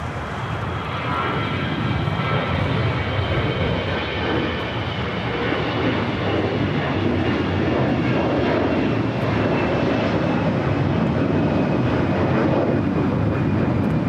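A jet airliner on a Cincinnati flight rolls down runway 25R at LAX, its engines a loud, steady roar that holds throughout without a break.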